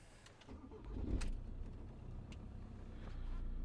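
2012 Ford Transit TDCi diesel van with a smoky exhaust and a shorted exhaust temperature sensor cranking and starting, a brief low rumble settling into a quiet, close idle.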